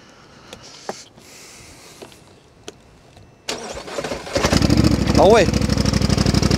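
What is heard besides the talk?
twin-cylinder 90hp quad ATV engine starting and idling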